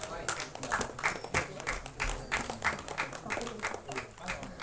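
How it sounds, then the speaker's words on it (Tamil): An audience at an album song screening festival award ceremony gives sustained applause, steady clapping of moderate loudness filling the whole stretch, with a voice talking over it. "ஒரு பலத்த கைத்தட்டல் கொடுக்கலாம்"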